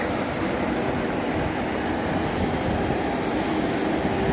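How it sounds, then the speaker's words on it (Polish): An Intercity train at the Lublin Główny station platform, a steady, loud broadband rumble with no clear breaks. "my jedziemy pociągiem Intercity, Czartoryski, relacji Lublin, główny, Łódź tak, Fabryczna"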